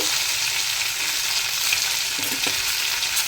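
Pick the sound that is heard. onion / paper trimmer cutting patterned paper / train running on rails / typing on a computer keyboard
onion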